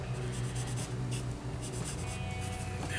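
A pencil scratches steadily across paper while a hand is being drawn, a close, continuous dry rasp of strokes over a low background hum.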